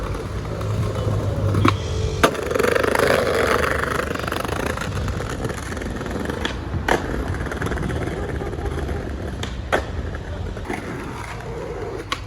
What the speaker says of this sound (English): here's a little more skating that I did in these shoes